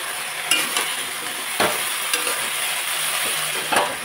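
Spices with salt, turmeric and jaggery stirred in a pan over heat, a steady soft sizzle with a few scraping strokes of the spoon at intervals.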